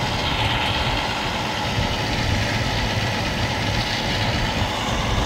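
A tractor engine idles on a farm in Poland with a steady, loud, unbroken diesel rumble that stays constant throughout.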